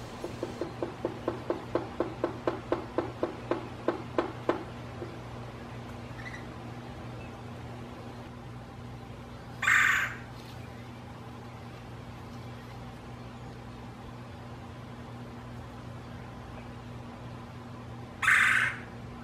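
A red-bellied woodpecker drums a rapid run of about fifteen taps that slow and fade, then gives two separate rolling calls spaced several seconds apart, set against a steady low hum.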